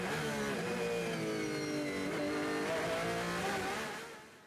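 Onboard a Porsche race car at the 24 Hours of Le Mans, the engine roars loudly and continuously, its pitch rising and falling through gear changes before fading away near the end, with no voices.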